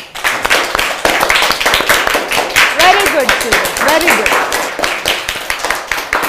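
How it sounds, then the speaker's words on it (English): Schoolchildren in an English class clap together, a dense patter of many small hands that runs steadily throughout while a teacher's voice praises them over it. "Let's clap for them."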